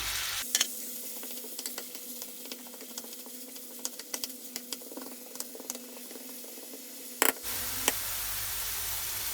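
Minced meat with onions and peppers fries in a pan, a soft steady sizzle with frequent scraping taps of a utensil stirring, and a louder knock near the end.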